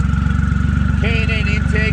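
A modified Triumph Rocket touring motorcycle, tuned to 150 hp with intake mods, an aftermarket exhaust and dyno mapping, gives a loud, steady pulsing engine rumble close by while a voice talks over it.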